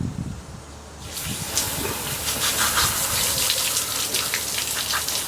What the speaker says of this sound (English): These coolers are full of ice water.